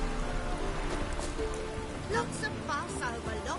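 Rain falls steadily in The Witcher game, a dense hiss filling the scene while voices and tonal game sounds rise over it.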